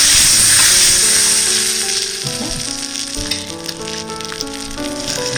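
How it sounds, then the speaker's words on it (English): Filet mignon steaks sizzle loudly in butter in a hot pan, a dense close frying hiss that swells at first, then settles as the meat is moved about, with faint scraping under a low musical backdrop. "Now we're gonna put our beautiful filet mignon steak on it. And move them around so then it's nice and buttery."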